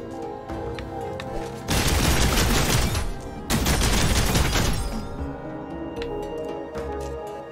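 Lair of the Clockwork God gameplay gunfire, two long, loud bursts of continuous rapid shots, each lasting about one and a half seconds, over a steady background game soundtrack.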